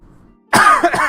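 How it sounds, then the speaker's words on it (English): A single loud, close cough from a person, abrupt and harsh after near silence, with a short second burst at the tail. "Sorry if I cough here and there."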